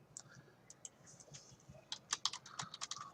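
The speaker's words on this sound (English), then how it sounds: "Once you type in your username and password" Quiet clicks of a computer keyboard as a username and password are entered, sparse taps at first, then a quicker, denser burst of keystrokes close by.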